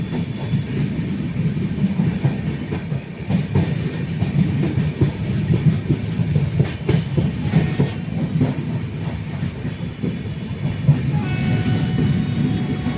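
A passenger train runs along the rails with a steady, loud low rumble and rhythmic clatter throughout, with no talk over it.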